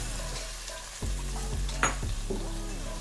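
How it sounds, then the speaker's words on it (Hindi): Mutton liver sizzles steadily as it fries with ginger and garlic. A utensil stirs and scrapes in the pan several times, loud and close, with no voices. "इसको 1 से 2 मिनट तक हम फ्राई करेंगे अदरक और लहसुन के साथ।"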